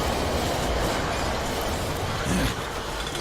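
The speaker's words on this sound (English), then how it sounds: "we have a train." A train rolls past in the Rise & Shine video game, a dense, steady rumble of wheels and carriages that swells briefly near the end and then eases, with no talking.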